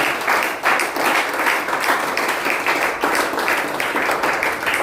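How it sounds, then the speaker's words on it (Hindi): A church congregation applauds during a Sunday service, with dense, sustained clapping from many hands filling the room. "तो क्यों ना जोरदार ताली बजाएं प्रभु यीशु के लिए।"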